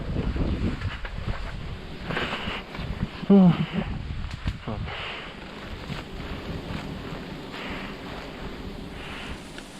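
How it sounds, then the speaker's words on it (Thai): Strong wind gusting outdoors near the sea during wild giant honeybee hunting, a rough, buffeting roar across the microphone throughout, with someone speaking intermittently over it and a brief louder bump partway through. "ลมก็แรงนะเนาะ"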